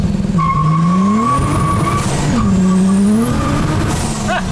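A loud, close turbocharged LS-engined Mazda Miata revs up and down in long rising sweeps during a traction control test, then stutters and breaks up roughly near the end.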